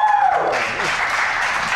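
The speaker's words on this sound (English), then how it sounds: "Let's give this young man a great round of applause there." Audience applause at a poetry reading at a library's Bayview Branch, a dense, steady wash of clapping that fills the short moment at even loudness.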